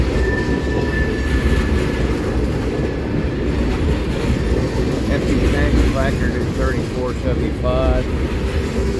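A Conrail freight car rolls through Hobson Yard rail yard in Lincoln, Nebraska, with steady loud rumbling and clatter of wheels on track, and faint squeals of wheels on rail partway through.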